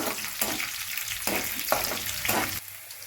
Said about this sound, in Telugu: మనం తిరగమాత ఎలా పెట్టేసుకుంటామో అలానే పోపు పెట్టుకోవాలి ఫస్ట్